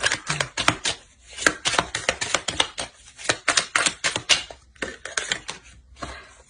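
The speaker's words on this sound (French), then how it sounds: "Et je mélange le jeu." A deck of cards being shuffled by hand at close range, a rapid series of crisp riffling and tapping bursts in an uneven rhythm with short pauses, no talk.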